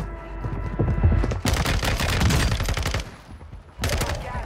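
The Hurricane gun fires in rapid automatic bursts in a video game: a dense, loud rattle of shots running for about a second and a half, then a steady volley, a brief pause, and another short burst.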